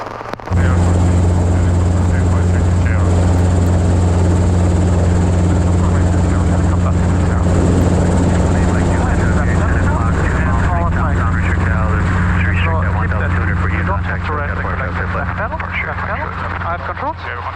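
Loud, steady helicopter engine drone with a constant low hum and rising turbine whine during takeoff from a runway pad, while radio chatter and voices talk over it.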